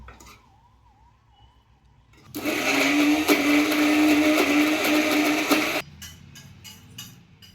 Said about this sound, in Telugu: దీన్ని ఇప్పుడు మనం మిక్సీ వేసుకోవాలి